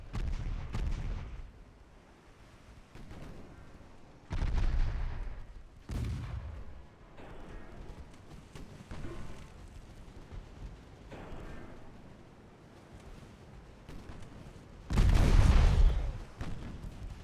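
Naval gunfire in the warship game Ultimate Admiral: Dreadnoughts, with heavy booming shots at irregular intervals, several loud thuds separated by rumbling gaps and the biggest blast near the end, no speech.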